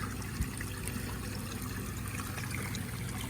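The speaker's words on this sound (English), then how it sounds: "Got my waterfall." Continuous soft trickling and splashing of a garden koi pond waterfall, even and unbroken throughout, with no voices.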